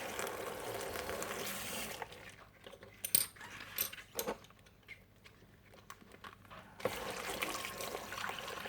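Washed china pottery rinsed under running water from a tap, a soft continuous stream with clinks and light knocks of the pieces being handled, faint and close.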